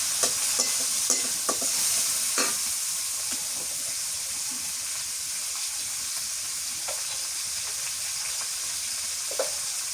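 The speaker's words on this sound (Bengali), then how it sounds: "এখন এই শুটকিগুলো দিয়ে দিই, শুটকিগুলো তেলের মধ্যে ভাজলে মজা লাগবে।" Dried fish frying in hot oil in a home kitchen, a loud continuous sizzle and hiss with occasional stirring clacks, strongest early and settling into steady frying.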